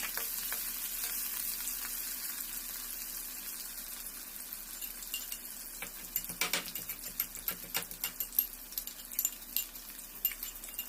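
Onions fry in a generous amount of oil before mustard greens are added, a steady faint sizzle that grows into busier crackling and light clinks of a utensil toward the end, no speech.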